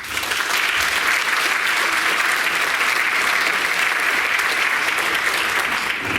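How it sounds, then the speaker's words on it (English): Sustained applause from an audience at a high school senior achievement awards ceremony, honoring the award recipients; steady, loud, dense clapping runs evenly throughout. "how about a round of applause for all our recipients?"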